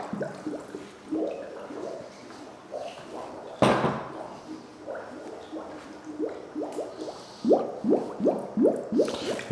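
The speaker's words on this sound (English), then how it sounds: "You should, again, hear bubbling." Repeated soft gurgling bubbles pop in quick bursts as sanitizer bubbles inside a SaniServ 624 soft-serve machine, growing denser and louder toward the end, with a brief sharp clatter partway through.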